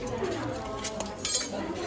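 Spoons and glasses clink softly against each other while being soaped with a sponge in a sink, with a few light metallic taps over running scrubbing noise.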